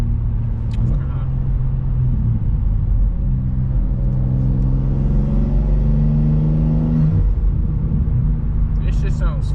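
A manual BMW G87 M2 engine accelerating through short-shifted gears with intake spool, a loud, steady rising drone with harmonic bands stepping between shifts, continuous throughout with people talking over it.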